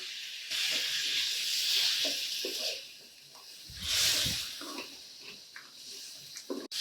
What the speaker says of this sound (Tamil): இப்போது இந்த காயை சேர்த்துடலாம் நம்ம வேக வச்சு வச்சுருக்க காயை சேர்த்து விட்டுலாம் எண்ணெயிலே வதக்கிடலாம்